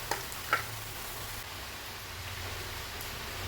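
Freshly grated mature coconut roasting in coconut oil in a pan, a steady soft sizzle and hiss with a couple of faint stirring scrapes near the start, no voices.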